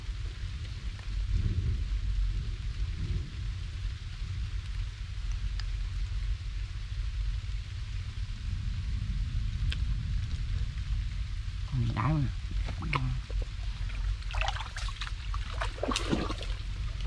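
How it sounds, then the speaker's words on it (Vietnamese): Heavy rain pours steadily in a mangrove forest at Cần Giờ, a dense continuous wash of water and dripping, with a voice speaking briefly partway through. "Mưa quá trời mưa."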